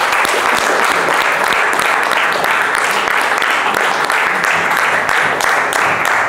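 A roomful of people at a Toastmasters club meeting in Rwanda breaks into applause, a loud, dense, continuous clapping that holds steady for several seconds without any voices.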